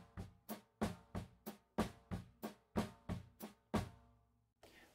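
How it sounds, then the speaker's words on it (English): Accented single strokes on a snare drum in triplets over kick and hi-hat, about a dozen sharp, evenly spaced hits ringing close and loud before stopping. "we play single strokes on the snare drum and we play an accent on every one"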